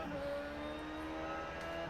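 A Dallara race car engine drones at Circuit of the Americas in a racing sim video game, a faint steady mechanical tone with slight pitch shifts, heard alone for a couple of seconds.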